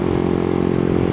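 A Yamaha MT125 motorcycle engine runs loud and close with a steady, throbbing rev, holding an even pitch over about a second with no voices.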